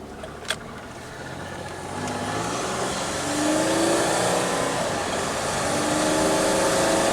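A 1990 Buick Regal with a V6 suffering from low power accelerates, its engine note rising in pitch in steady sweeps, heard close from inside the car, with a short click at the start.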